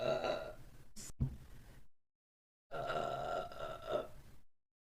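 A person burps twice: a long, deep, rumbling belch, then a brief grunt, a pause, and a second drawn-out burp, loud and close.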